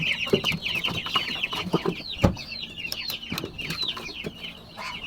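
Chickens in a small backyard coop cluck and squawk steadily and fairly close, with repeated bright calls overlapping and a brief louder burst midway, no voices present.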